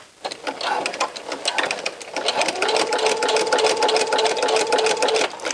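A sewing machine runs continuously, stitching elastic onto a T-shirt in a rapid, even mechanical chatter that steadies and rises slightly in pitch partway through, close and without talk.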